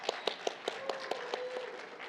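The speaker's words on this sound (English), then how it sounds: "feel free to clap" A short burst of sparse, rhythmic clapping from a few people, faint and brief.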